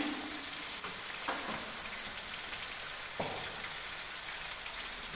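Onions fry with ginger paste in hot oil, giving a dense, even crackling sizzle with a few sharper scrapes and pops from stirring; nobody speaks.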